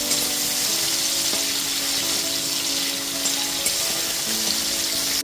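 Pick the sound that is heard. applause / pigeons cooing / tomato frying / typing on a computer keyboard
tomato frying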